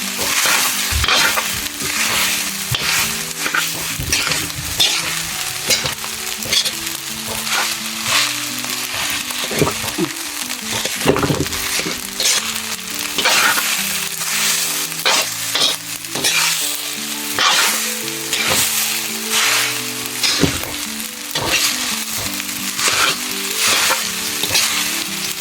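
Food is stir-fried with a ladle in a hot pan at a mountain cooking spot, with a loud, constant sizzle and rapid, rhythmic metal scraping and clanking throughout, close by and with no voices.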